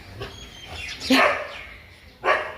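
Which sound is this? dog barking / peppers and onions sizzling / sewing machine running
dog barking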